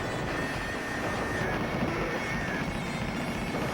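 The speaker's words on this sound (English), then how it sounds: "And we're going to fight a Harrier jump jet." Harrier jump jet in the Sega Saturn game Capcom Generations 4, a steady, dense roar of jet engine noise that holds at an even loudness for the whole stretch.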